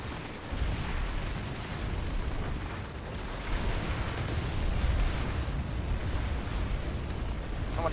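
Heavy bombing in Planetside 2: a continuous, roaring wall of explosions and booming rumble that stays loud and dense throughout, with no pauses and no voices on top.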